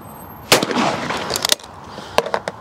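A single loud shotgun blast from a Miroku 6000, outdoors, with a sharp crack and a short ringing decay, followed by faint clicks and handling noises.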